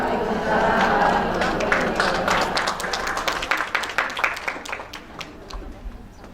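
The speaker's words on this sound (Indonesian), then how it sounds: "Berikan tepuk tangan lagi dong Bu" An audience at a community health (Posbindu PTM) event applauds a doctor, a full burst of clapping that thins into scattered individual claps before fading, with voices murmuring underneath.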